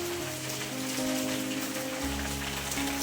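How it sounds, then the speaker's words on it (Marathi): Heavy afternoon rain falls in a Konkan village, a loud, even wash of noise with faint steady tones running beneath it and no voices. "पाऊस पडतो आहे"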